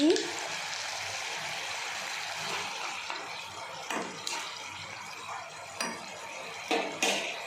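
Cauliflower and green chilli cooking in a pan as dried fenugreek leaves and ghee go in, a soft, low sizzle with occasional stirring knocks and scrapes, fairly quiet and close.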